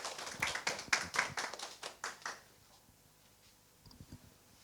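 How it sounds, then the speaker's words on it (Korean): Audience at a 2021 peptide cosmetics symposium clapping to welcome a speaker, a brief burst of close handclaps for about two seconds that fades to a few scattered claps and near quiet. "박수로 맞이해 주시기 바랍니다."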